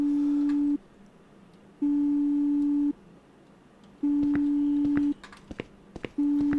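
Phone ringing tone in the video game Big Head: a steady low electronic hum sounds in long even bursts of about a second with short gaps between, repeating four times, clear and fairly loud with faint clicks in between.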